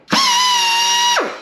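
An air-powered 90-degree angle drill runs up to speed with a bit fitted, ready for drilling out damaged metal threads: a loud, close, steady pitched whine that lasts about a second, then spins down with a falling tone.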